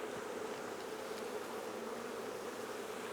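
Honey bees on a queen rearing frame buzz in a steady, close swarm hum, a continuous drone with no other sounds.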